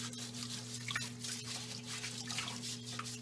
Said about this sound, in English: I do think I'm going to take and just wash this up real quick though.